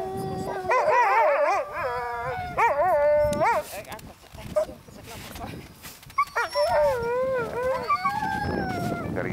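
Sled dogs on an Arctic expedition toward the North Pole howl and yip in wavering, overlapping cries, loud and close, with people talking in between while a harness is fitted.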